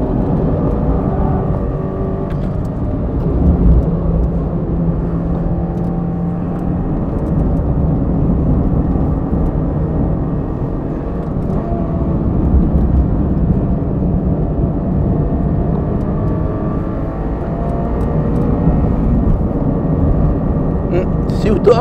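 A Toyota GR86 engine drones steadily on the Suzuka circuit, holding a loud, continuous tone with slight rises as it accelerates, while someone talks over it throughout.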